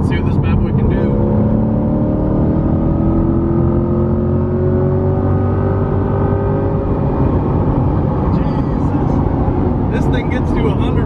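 A C8 Corvette sports car engine roars close and loud, its pitch climbing steadily through the gears before settling.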